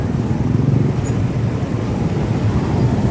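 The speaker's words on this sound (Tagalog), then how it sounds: "Traffic." Road traffic noise on a busy, rough route where cars, motorbikes, people and bikes share the way: a steady, dense rumble of passing vehicles, close and fairly loud, with no talk.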